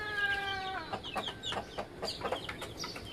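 Chickens on a home farm, with a chick nearby, give a series of quick, fairly close clucks after an opening drawn-out tonal call, in an uneven run of short bursts.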